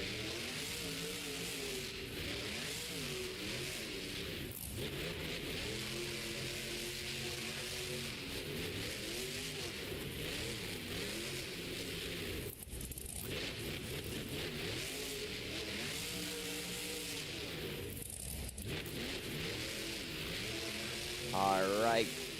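A monster truck engine, El Diablo driven by Armando Castro, rumbles loudly and steadily while rounding turns at a Monster Jam show in New Orleans, with an arena announcer talking over it.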